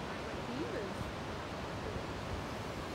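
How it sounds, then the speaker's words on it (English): Water pours steadily over a river weir in a constant, dense broadband rush, loud and close, with a voice faintly audible beneath the roar. "So we've just come up to the weir."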